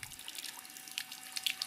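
A homemade solar-powered water pump pushes water out, making a faint, continuous trickle broken by scattered splashes and drips.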